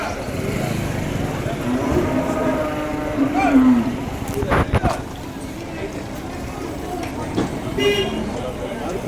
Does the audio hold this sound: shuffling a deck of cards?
no